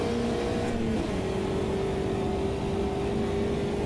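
A Volkswagen Beetle race car engine drones steadily in the racing game Automobilista 2, a constant mid-pitched hum with a shifting tone as the revs climb slightly, close and unbroken throughout.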